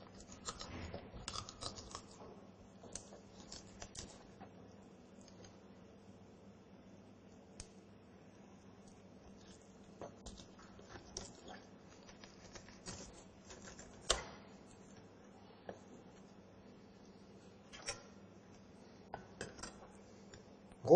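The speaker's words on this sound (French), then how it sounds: "Coupez le poisson." A knife works through sea bream (dorade) fillets on a cutting board, giving quiet scraping and light, scattered taps and clicks that are faint, close and spaced irregularly, with no talking.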